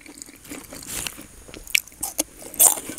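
Crunchy bites into a boiled cow organ with a gristly texture, a few distinct close crunches and wet chewing sounds at irregular intervals, with no voices.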